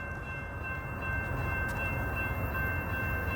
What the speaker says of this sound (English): Yep, I hear the train.